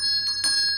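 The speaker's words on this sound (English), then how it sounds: "who's ringing the bell?" A bell rings in a room of a Victorian house, its steady metallic tone sustained with brief louder strikes, near and alone with no voices.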